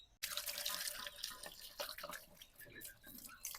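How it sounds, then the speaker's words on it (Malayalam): Water runs steadily from a tap as a feeding bowl for ducklings is rinsed and scrubbed under it, with splashing and small clatters of the bowl against the stream. "താറാകുട്ടിയാൾക്ക് ഫുഡ് കൊടുക്കുന്നതിന് മുന്നേ നമുക്ക് പാത്രം ഒന്ന് ക്ലീൻ ആക്കാം"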